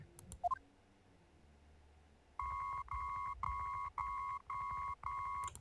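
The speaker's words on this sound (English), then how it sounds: "Beep, beep, beep." Electronic beeps sound in a regular series of six evenly spaced tones in a Miles Edgeworth Investigations 2 game scene, following a short chime, clear and alone.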